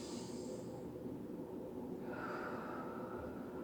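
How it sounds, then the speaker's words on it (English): One long, deep breath drawn in a yoga class, an airy inhale easing into a soft exhale, close and steady with no talking. "One more deep breath."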